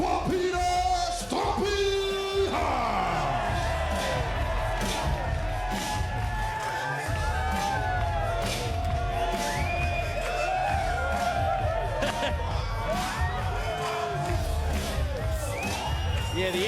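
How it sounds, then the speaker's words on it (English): A darts crowd at the NZ Super League semi-final cheers, yells and whoops loudly and continuously as Peter 'Stumpy' Hunt makes his entrance, with an announcer's voice and music mixed into the roar. "please make some noise for Peter Stumpy Hunt"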